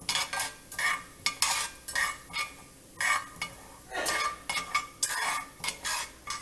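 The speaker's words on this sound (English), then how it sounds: "to add this 2 teaspoons of urad dal. I am going to fry it." Urad dal frying in oil over a medium flame, with bursts of sizzling and crackling as a spoon stirs and scrapes the pan in an irregular rhythm, close up with no talking.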